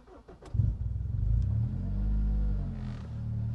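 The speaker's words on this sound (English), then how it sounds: "Clutch in, turn the ignition on, and then button start." A JDM Honda Civic Type R FD2 fires up by push button, a brief starter crank catching into a loud, close rumbling engine that settles into a steady idle, with no voices.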